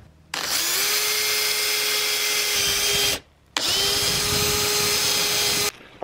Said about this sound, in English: Next, I need to drill two holes